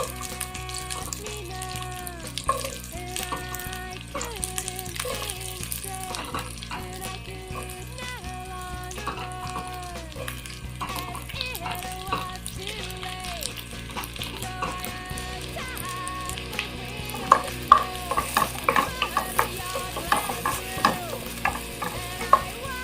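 Large-cut onions sizzle steadily in a pan for a beef stew with pumpkin, carrots and chickpeas, with stirring scrapes and clinks throughout and soft background music underneath.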